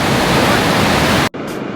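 Ocean waves crash on a beach, a loud broadband roar of surf that cuts off abruptly near the end, leaving quieter wash.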